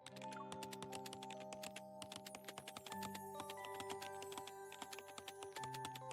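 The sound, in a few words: typing on a computer keyboard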